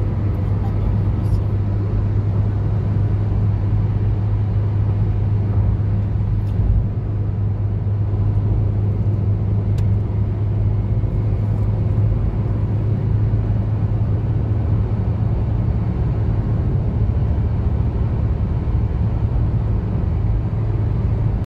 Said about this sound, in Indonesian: terlihat kendaraan padat dengan kecepatan 80 sampai dengan 100 km per jam